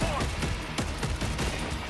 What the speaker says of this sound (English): I have my fucking conscript rifle and my machine gun.